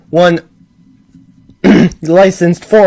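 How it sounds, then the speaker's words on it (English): A person clears their throat once, a short harsh rasp up close, followed after a quiet pause by a spoken voice. "Sorry, I just need to clear my throat."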